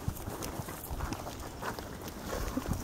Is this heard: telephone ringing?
no